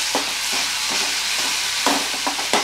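Chili powder is stirred into onion and tomato gojju frying in a pan, with a steady sizzle throughout and a few soft scrapes of the spoon close by.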